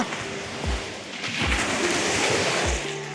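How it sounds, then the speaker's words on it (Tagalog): Strong ocean waves crash on a beach along the Dinadiawan coast in Aurora, a continuous roaring surf with several heavy low booms of breaking water. "Dito sa part dito, napakalakas ng alon."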